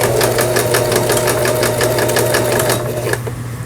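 A Brother sewing machine, a Japanese domestic model, stitches an overlock seam along the edge of fabric, a fast steady mechanical clatter with regular needle pulses close up, slowing near the end.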